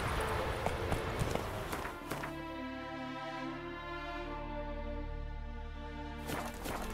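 A horse galloping in the video game The Witcher 3: Hearts of Stone, with rapid hoofbeats in the first two seconds, then a sustained tonal hum as the galloping fades, no talk over it.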